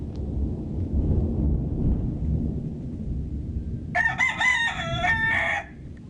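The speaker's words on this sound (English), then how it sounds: "And here's our chickens talking to us." Chickens and a rooster on a rural property during a thunderstorm: a loud, close rooster crow with bright clucking calls bursts out near the end over a steady, rumbling storm backdrop.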